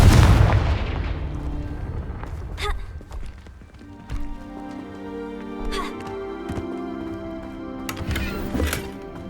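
A Confringo fire spell blasts in Hogwarts Legacy, a loud booming explosion at the start that rumbles away, followed by softer scattered thuds, footsteps and impacts over a faint game music bed.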